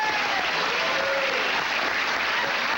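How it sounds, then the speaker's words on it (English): A studio audience applauds in a steady wash of clapping, moderately loud and sustained for the whole stretch, with faint murmuring underneath. "Let's have a nice hand for him."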